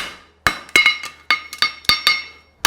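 Forging hammer blows ring out on a steel horseshoe against an anvil while a hind preventer shoe is shaped, sharp metallic clangs in irregular pairs and singles, each with a bright ringing decay, close and loud.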